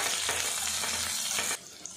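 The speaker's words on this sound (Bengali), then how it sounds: "পেঁয়াজটা আমি ভাজা ভাজা করে নেব" Chopped onion with black cumin seeds fries in hot oil, a loud, close, crackling sizzle that runs steadily, then drops sharply to a softer hiss near the end, with no talking.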